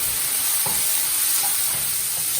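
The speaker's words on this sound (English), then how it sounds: "and mix it" Spiced peas with haldi, chili and jeera powder being stirred and mixed in a pan on a medium flame, a steady close sizzle with a few soft scraping strokes throughout.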